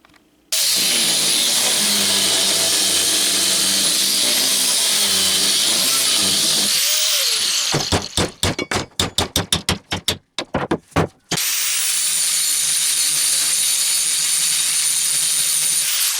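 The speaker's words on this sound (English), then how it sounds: "Just cut it out with the angle grinder and then turn it on the lathe" Angle grinder cutting metal for a homemade lathe headstock, a loud steady high whine that breaks into a series of stuttering bursts and then resumes its continuous cut.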